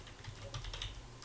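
Quick keystrokes on a computer keyboard as a command is entered, a steady run of light clicks and taps, close and fairly quiet, with no talking.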